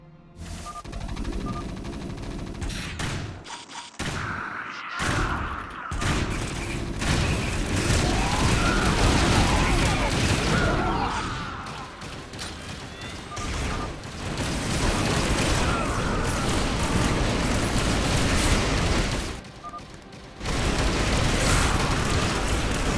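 Tactical nuke detonations in the strategy game Cosmonarchy come as a sustained, loud rumble of booming blasts and crackling bursts over about twenty seconds, with a few short drops in level and no talking.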